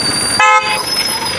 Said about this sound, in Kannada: ಹಾರನ್ ಬೇರೆ ಹೊಡಿತಾರೆ ಫ್ರೆಂಡ್ಸ್